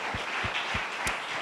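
Church congregation applauding during a Holy Communion service, a soft, distant, steady patter of clapping with a few thumps underneath, fairly faint throughout.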